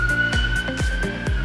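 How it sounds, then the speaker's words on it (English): A siren sounds outside, holding a loud steady tone broken by regular pulsing bursts. "there's a siren."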